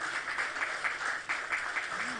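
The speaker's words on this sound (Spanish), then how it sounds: "denle un aplauso al Señor, por favor" A church congregation applauds in praise, a steady wash of clapping that keeps going for the whole stretch, with faint voices mixed in.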